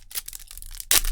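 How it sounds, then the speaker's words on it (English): Short crisp snips and crinkles of scissors cutting through a Weiss Schwarz foil card pack, ending in a louder rustling tear up close. "I grabbed the scissors again."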